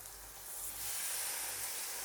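Beef slices sizzle on a small BBQ grill indoors in a dorm room, a steady, quiet hiss that grows slightly louder and continues evenly throughout.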